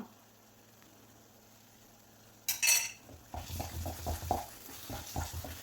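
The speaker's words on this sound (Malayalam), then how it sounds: "നല്ലതുപോലെ ഇളക്കി കൊടുക്കുക." A spoon stirs thick banana halwa cooking with ghee in a pan, first a clatter of metal on metal, then steady scraping and soft thick stirring sounds close by.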